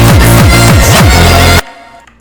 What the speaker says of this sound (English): Then here, some reverse kicks, and then triples.